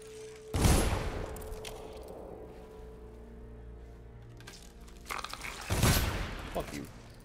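Gunfire from the video game Dishonored, two loud sharp bursts about five seconds apart, each a dense broadband blast with a brief rumbling tail, separated by quieter game ambience.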